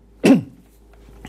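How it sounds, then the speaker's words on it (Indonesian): A single sharp cough from a man presenting stock market news, short and close, followed by near silence. "Jadi batuk saya ini."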